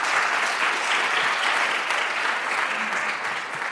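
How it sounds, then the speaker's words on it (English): Conference audience applauding a speaker, a continuous, even crackle of many hands clapping at moderate loudness for the whole stretch. "a big applause for Yang Liu"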